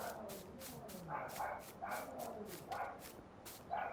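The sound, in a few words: dog barking downstairs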